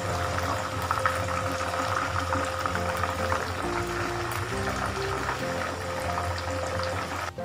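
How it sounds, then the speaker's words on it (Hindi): Chicken pieces for a steam roast frying in a pan after being turned over, giving a steady dense sizzle and bubbling that stays loud and continuous throughout, with no talking. "अब दूसरी साइड से ये फ्राई हो रहा है"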